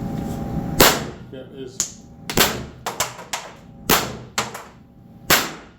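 A Pepperball VKS launcher fires rounds fed from an ADN drum magazine, about eight sharp, loud pops at irregular intervals with short ringing tails and quiet gaps between.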